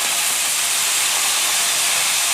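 Sliced onions, two tomatoes and a sprig of curry leaves hit hot oil in a pan for a South Indian brinjal and peas thokku, giving a loud, steady, close sizzling hiss with no pause.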